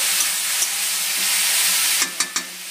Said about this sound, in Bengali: এবার মাংসটা দিয়ে ভালোভাবে একটু কষে নেবো